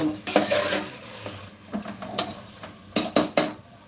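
Masala being stirred vigorously into meat for biryani in a pot, with repeated scraping and clanking strokes of a spoon against metal over a low sizzle, loud and close, with no voices.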